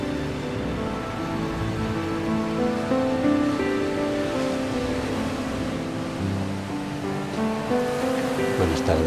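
Ocean waves keep up a steady, dense wash of surf with no clear breaks, under a layer of sustained tones that sounds like background music, and nobody speaks.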